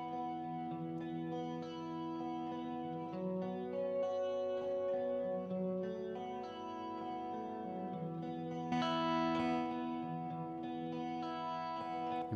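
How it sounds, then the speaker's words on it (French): Reverb returns soloed in a Soundtrap mix, sustained tonal music with washy, spacious tails panned left and right, smooth and continuous with a brighter swell near the end. "On peut même écouter que les réverbes."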